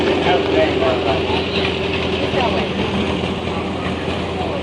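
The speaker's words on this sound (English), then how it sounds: "1938 Graham Bradley. Very rare tractor." A rare 1938 Graham Bradley antique tractor rolls by in a county agricultural expo parade, its engine a steady, loud mechanical rumble with a faint tonal hum throughout, while crowd chatter and voices mingle beneath it.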